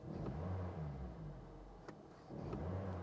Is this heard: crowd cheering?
no